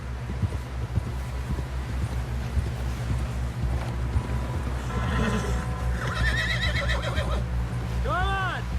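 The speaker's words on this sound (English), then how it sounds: "Someone help John down off this horse." Steady hoofbeats of a horse clip-clopping in the video game Red Dead Redemption 2, with wind in the background and a sharp whinny near the end.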